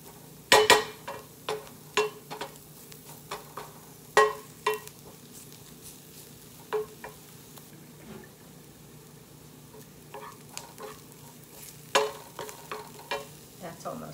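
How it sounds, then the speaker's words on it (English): Onions and garlic sauté in a pan for meatloaf, a quiet continuous sizzle punctuated by repeated sharp scraping and stirring clicks of a utensil against the pan, close and alone without talk. "We're gonna saute 1 minute more and then add it to the meatloaf."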